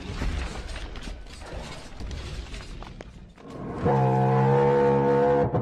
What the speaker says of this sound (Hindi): टीरेक्स का आवाज ऐसे कब से होने लगा?